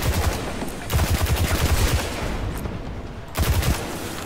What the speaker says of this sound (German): Sofort Raketen auf die schießen.